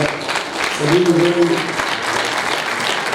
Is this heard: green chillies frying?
no